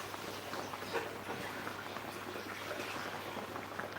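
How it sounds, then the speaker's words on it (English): A kitchen tap runs in a steady, even rush, filling a cooking pot with water, with no talking over it. "I'm running the tap."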